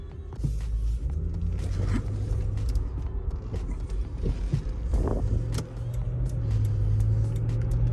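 A 2013 Lexus GX460 SUV sets off for a drive: a steady low engine rumble from inside the cabin with small creaks and clicks, the engine note rising toward the end.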